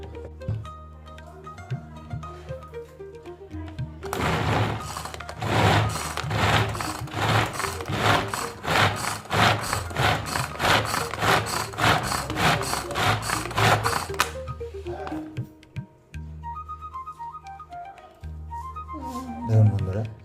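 A kitchen grinding machine crushes cauliflower for paratha filling, a loud steady whirring grind that runs about ten seconds, then stops, with quieter machine hum before and after.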